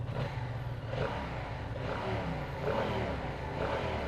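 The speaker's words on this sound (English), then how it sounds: "Just like revving it a little bit in neutral, you can tell that this thing is full of torque." A 2025 Yamaha MT-07 motorcycle engine revs in neutral, a steady low rumble rising and falling in a few short blips, heard close and alone with no voices.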